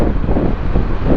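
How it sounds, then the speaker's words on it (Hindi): Wind blows outdoors along a city road in the Clifton area of Karachi in the evening, a steady broadband rush of air over the microphone, continuous and fairly loud throughout with no talking. "और हवा चल रही है,"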